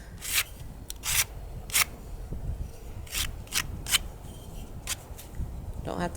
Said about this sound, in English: So light sanding.